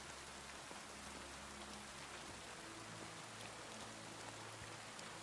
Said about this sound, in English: Oh, great. I'm getting rained on.